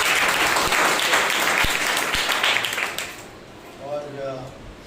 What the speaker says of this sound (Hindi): तो एक जोरदार परमेश्वर के लिए ताली बजाइए।